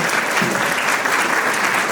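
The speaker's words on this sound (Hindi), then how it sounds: "दोनों तालियां बजाइए बच्चों के लिए" Loud, dense audience clapping for costumed children at a play school annual day event, a continuous burst of close applause.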